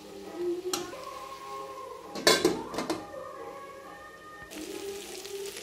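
Tomatoes go into a pan of potato gravy: a soft metallic knock, then a louder clatter and scrape of a utensil against the pan, followed by a faint sizzle and quiet kitchen sounds, with no talk.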